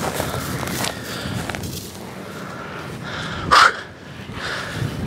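A dog gives a single sharp bark partway through, amid footsteps and wind on a coastal path with beaches nearby.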